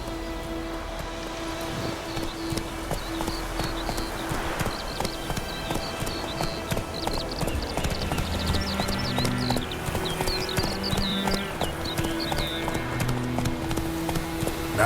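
Rhythmic hoofbeats of the horse Roach galloping in The Witcher 3, a fast steady clip-clop over a soft rain-like wash and ambient game music, no speech heard.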